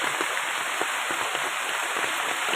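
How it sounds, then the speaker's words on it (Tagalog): Heavy rain pours down steadily outdoors, a dense, constant broadband hiss with scattered nearby drops, loud and unbroken with no talk. "Napakalakas ng ulan."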